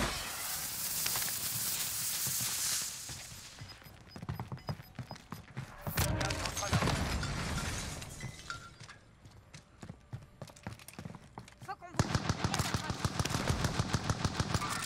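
Bursts of rapid automatic gunfire in the Warzone Pacific shooter, sharp clustered volleys at the start, middle and end, mixed with dense game noise and brief quieter stretches, loud and close.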